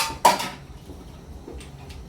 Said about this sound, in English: So I'm going to be pounding the tomato right now.